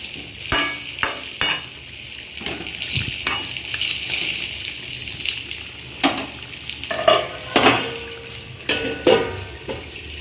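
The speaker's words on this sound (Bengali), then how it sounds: "ঢাকনাটা উঠিয়ে একটু নাড়িয়ে দিলাম, না হলে নিচের দিকে লেগে গেলে আবার সমস্যা হয়ে যাবে না।" Meat curry (kosha mangsho) in a pot, heard as a lid lifted and a spoon stirring and scraping, with loud clacks and bubbling sizzle coming in irregular bursts over a steady simmer, and no talking.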